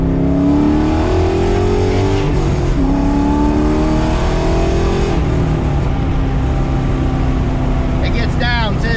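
A Foxbody car with a Coyote V8 and a loud 3-inch exhaust roars close by, revving and pulling through gears with a deep rumble and brief pitch drops at shifts, ending with a few chirpy squeaks.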